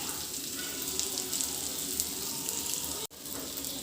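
Chicken shallow-frying in a pan, a steady hissing sizzle with light crackle close by, running on without talk and cut briefly near the end.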